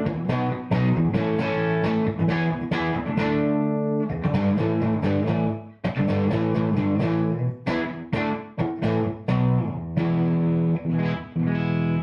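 An electric guitar played through a JMI AC30/6 Top Boost piggy-back amplifier gives classic 1960s British tones, with strummed chords and picked notes ringing loud and continuous, slightly driven, with no talking.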